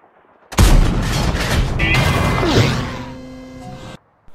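Toy-soldier battle gunfire bursts out in a loud, dense barrage of shots and booms, sustained for about three seconds before cutting off; no voices.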